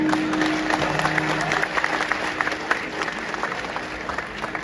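Steady crowd clapping from a live concert audience in Christchurch, New Zealand, filling the space evenly for several seconds with a faint held tone and crowd murmur beneath.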